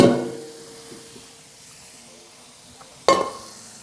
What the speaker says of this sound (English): And now we just hit it with this cold water because we don't want it to cook anymore.